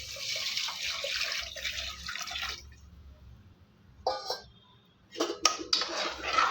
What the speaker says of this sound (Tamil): மூணு கிளாஸ் தண்ணி சேர்த்துக்கலாம் நான் அளந்து கிணத்துல வச்சுருக்கேன் அதை ஊற்றிக்கிறேன்